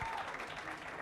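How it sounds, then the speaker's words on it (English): Brief burst of audience applause at a business technology workshop and expo, steady and fairly distant clapping filling the moment with no spoken words. "Ladies and gentlemen, big round of applause."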